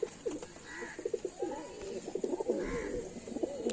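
A pair of Kaldoma pigeons, one male and one female, coos softly nearby in repeated low throaty phrases that rise and fall.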